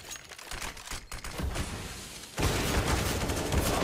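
Gunfire during a competitive esports match, heard as rapid clattering shots, scattered at first and then a sudden louder sustained burst in the last second and a half.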